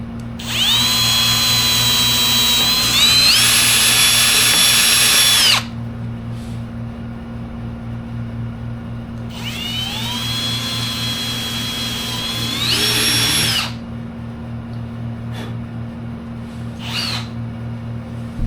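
A power drill whines at high speed in two long bursts with a pause between, then a short final spin, drilling a 1/8-inch hole while fitting a wiper system to a 1941 Chevy truck.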